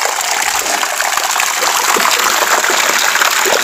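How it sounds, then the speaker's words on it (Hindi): Water gushes loudly and continuously from a village spring where people fill drinking water, a close, dense, unbroken flow with no voices. "ये देखो यहाँ से पानी बह रहा है"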